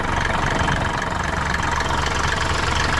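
A vehicle engine runs after a fuel filter repair, a steady, close idle with a rough, knocking rumble and no noticeable change in speed over a few seconds.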